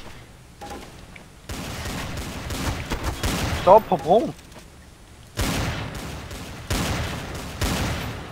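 Repeated bursts of rapid gunfire in the shooter game Counter-Strike: Source, loud and close, separated by quieter gaps, with a player speaking between the volleys.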